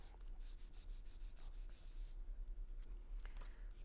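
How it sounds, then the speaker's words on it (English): Repeated rubbing strokes of a stencil design pressed onto absorbent tissue to lift excess ink, a quick series of close, dry scuffs at first that then settle into a quieter rasping texture. "flip it over onto a piece of absorbent tissue and just give it a rub down"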